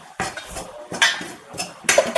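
A metal spoon stirs coriander powder and chili powder in a pan for bitter gourd theeyal, with three distinct bursts of scraping and clinking against the pan, fairly close and with no talk.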